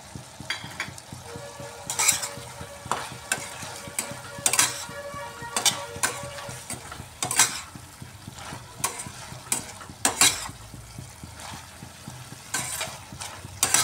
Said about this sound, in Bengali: শস্য দিয়ে ভালো করে মিক্সড করে নিলাম